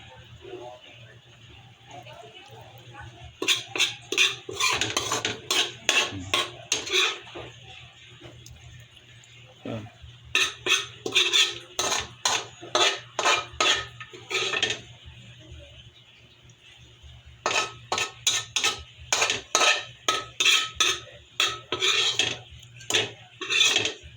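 A ladle scrapes and clinks repeatedly against a metal pot while scooping food, in quick rhythmic bursts of metallic knocks separated by pauses, with a person talking throughout.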